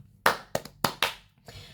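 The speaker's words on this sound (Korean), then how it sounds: "박수 한번 치세요. 여러분 잘했네요. 박수." A handful of people clap in a small room, giving about five sharp, separate claps spaced unevenly over under two seconds, with the last one softer.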